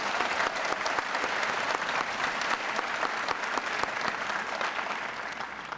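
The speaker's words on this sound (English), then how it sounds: "sure, we should clap for Mr. Hill." Graduation audience at a high school ceremony applauds steadily and loudly throughout, a dense wash of many hands clapping with no pause.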